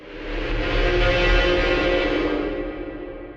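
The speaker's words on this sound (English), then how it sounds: "So I added this Braams sound, it's called Achtung." A cinematic braam effect called Achtung, alarm-like in character, swells into a massive, distorted brass-like blast with a deep rumbling low end, holding loud and steady for about three seconds before easing slightly.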